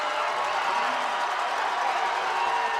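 A high-school football stadium crowd at a Friday night game roars in a steady, dense wash of cheering and noise from all sides, with no clear breaks.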